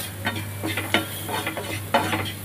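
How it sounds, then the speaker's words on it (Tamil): Masala spices for an onion-based baby potato fry sizzle in oil in a pan, with a soft continuous frying hiss broken by several sharp scraping stirs of a spoon, close and without talk. "இது நல்லா வதங்கணும், இந்த எண்ணெயிலேயே ஃப்ரை ஆகணும்."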